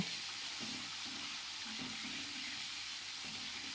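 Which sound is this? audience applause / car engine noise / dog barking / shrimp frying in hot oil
shrimp frying in hot oil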